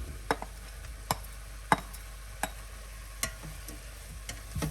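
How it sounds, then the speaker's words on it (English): Chicken liver sautéing with carrot, garlic and onion gives off a soft background sizzle, broken by sharp, evenly spaced clicks and taps of a utensil against the pan, close by and fairly quiet. "And now let's add carrot, garlic and onion."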